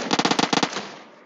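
Rapid gunfire in a video game, a quick burst of about a dozen sharp close shots over half a second, then a fading tail.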